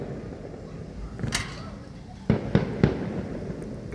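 Distant fireworks pop outdoors at night, one muffled burst followed by a quick string of three sharp cracks over a faint background hiss.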